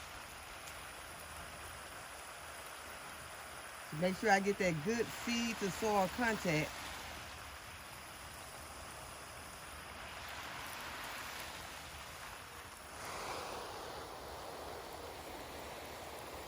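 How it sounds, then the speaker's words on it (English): Water splashes and trickles onto a garden bed of freshly sown cushaw squash seeds, a soft steady wash that swells slightly later on, while someone speaks briefly near the start. "Now I'm just gonna go ahead and water those in."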